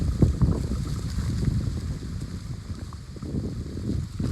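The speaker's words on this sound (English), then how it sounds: "it's windy and the audio sucks" Heavy low rumbling wind buffeting the microphone outdoors, steady and blustery throughout with no voices.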